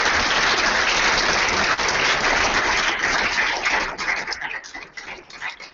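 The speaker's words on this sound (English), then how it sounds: "Let's have a huge round of applause for all the winners," A large audience at an awards event applauds the winners and participants, loud dense clapping that holds steady, then thins into scattered individual claps before fading.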